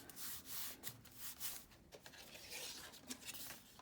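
Paper being burnished by hand on a mini album page, a quiet, soft rubbing and scraping texture with short strokes repeating over a few seconds, close and faint with no talking.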